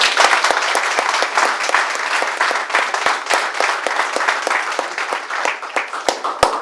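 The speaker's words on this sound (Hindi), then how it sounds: "उनके लिए एक बार जोरदार ताली बजाइए।" Hearty audience applause at a hotel event, dense and continuous clapping from a roomful of people with sharp individual claps standing out, lasting the whole stretch.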